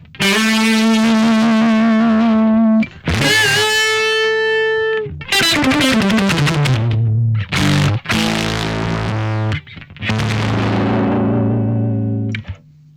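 Electric guitar notes and chords, heavily processed with distortion, compression, delay and reverb, played in several sustained phrases with brief gaps.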